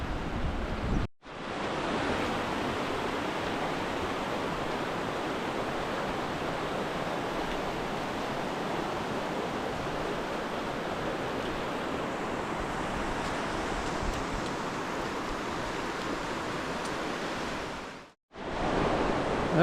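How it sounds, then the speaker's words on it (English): Fast-moving river water rushes steadily along the Riverwalk in Zion, making a loud, unbroken roar that continues with no voices. "So you can see the water's really moving though."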